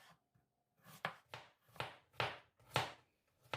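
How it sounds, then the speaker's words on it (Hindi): A knife chops peeled potatoes into small pieces on a cutting board, giving six or seven distinct, evenly spaced thuds up close in an otherwise quiet kitchen. "सबसे पहले 4 आलू लेंगे और इन्हें छीलकर इस तरह से छोटे छोटे टुकड़ों में काट लेंगे।"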